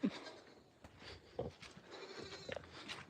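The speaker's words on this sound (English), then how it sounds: "Goat!" A farm goat in an animal enclosure bleats a few times, faint and near, over low background rustle and movement.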